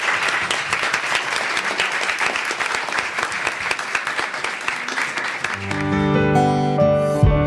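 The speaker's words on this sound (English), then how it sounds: "A round of applause for these people." Audience applause after a community presentation, a lively burst of clapping for about six seconds that gives way to music at the end.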